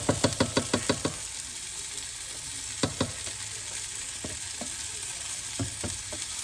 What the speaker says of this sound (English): Stir it up and let that sauce start to thicken for the kiddos.